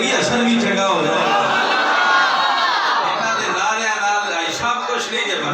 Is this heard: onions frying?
no